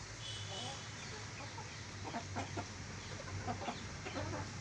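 Hens on a farm cluck softly while pecking at scattered feed on the ground, with low scattered clucks and faint scratching over a steady background hum.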